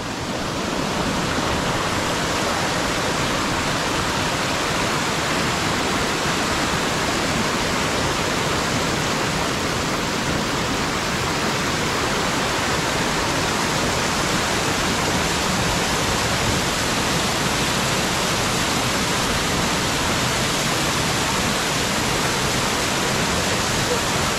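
Secret Falls waterfall pours in a steady, loud, broadband roar of rushing water that holds constant throughout, like close-up falling water with no breaks.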